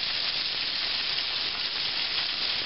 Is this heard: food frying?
yes